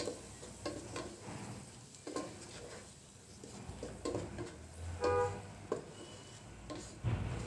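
Chicken for biryani being stirred and fried with spices in a pan, a steady close sizzle with scraping spoon strokes and occasional clinks of the pan, no voices.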